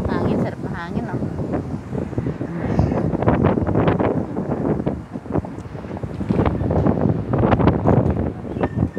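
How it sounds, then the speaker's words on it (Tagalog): Steady outdoor wind gusts buffet the microphone with a broad, rumbling roar that rises and falls throughout, while a person talks over it. "Mahangin, sarap mahangin, oh."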